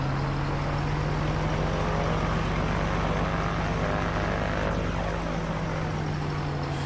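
A Carenado Mooney Ovation in Microsoft Flight Simulator 2020 taxis around Inverness, its piston engine and propeller holding a steady, close droning hum with a constant low tone throughout, no voices present.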